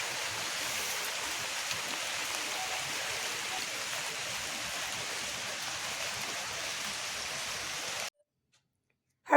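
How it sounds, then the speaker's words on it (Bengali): Heavy rain pours down suddenly, a dense, even hiss of falling water that stays steady for about eight seconds and then cuts off abruptly into near silence. "এই যে ভালো জোরেই কিন্তু বৃষ্টিটা পড়ছে, বেশ হঠাৎ করে জোরে নেমে গেল।"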